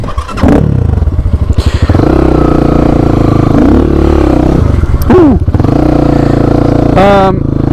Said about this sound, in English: you may notice that the exhaust on my bike is very loud right now